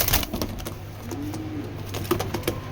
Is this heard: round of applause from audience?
no